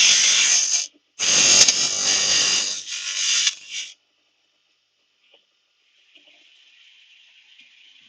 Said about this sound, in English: let's grind a bit of this up.